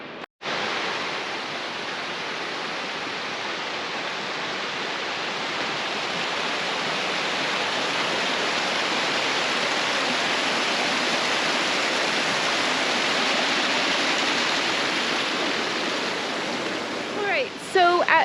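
A waterfall at Spray Park on Mount Rainier roars as a steady, broad rush of falling water, loud and unbroken for the whole stretch, with a faint sharper sound only at the very end.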